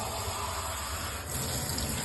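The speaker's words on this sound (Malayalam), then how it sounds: "രണ്ട് കപ്പ് വെള്ളം ഒഴിക്കും" Water pours steadily into a cooking pot in a Kerala kitchen, a continuous close splashing gush running alone through the short stretch.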